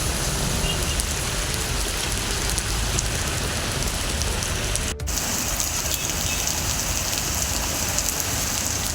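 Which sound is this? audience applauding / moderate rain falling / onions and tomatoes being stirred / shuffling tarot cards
moderate rain falling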